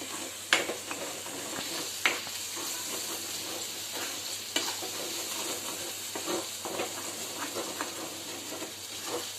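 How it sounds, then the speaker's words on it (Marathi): Ground masala paste for farali misal sizzling and frying in hot oil in a pan, a steady soft hiss broken by occasional stirring scrapes and clinks, with no talk. "हे आपलं वाटलेलं वाटण ऍड करूया आणि याला व्यवस्थित छान आपण परतून घेऊया तेलामध्ये"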